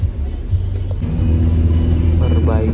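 Traffic crawls in a jam at road works, with a steady loud engine rumble and the drone of nearby vehicles throughout, plus a short rising engine or horn tone near the end.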